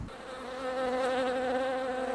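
Bees buzz close by in a steady, droning hum that swells slightly in loudness and holds unbroken throughout.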